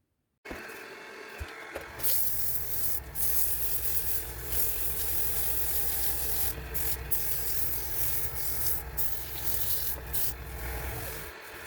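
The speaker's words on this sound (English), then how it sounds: "So now I'm going to sand this up, sand it all up" Steady, close abrasive hiss of sandpaper rubbing a spinning resin and wood bowl on a woodturning lathe, continuous with slight swells and brief dips throughout.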